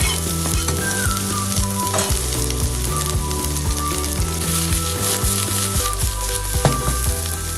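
Onions sizzle and fry in very hot melted butter, a dense continuous crackle with stirring clatter throughout, close and steady.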